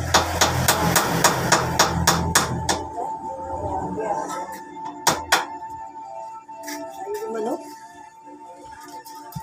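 Old nails being hammered into scrap wood for a homemade sink stand, a run of sharp, loud metallic strikes in quick rhythm at first, then a few isolated knocks and clinks amid quieter handling sounds.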